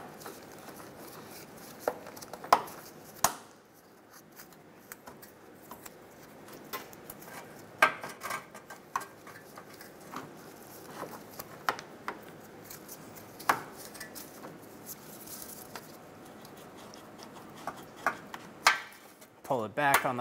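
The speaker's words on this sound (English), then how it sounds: "Using a pair of needle nose pliers, we're going to grab the clamp off the lower radiator hose." Needle nose pliers clicking and scraping against a metal clamp on the lower radiator hose of a 2007-2012 Nissan Altima, a series of sharp, scattered metallic ticks in a quiet garage.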